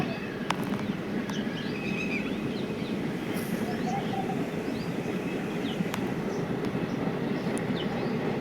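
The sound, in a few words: train ride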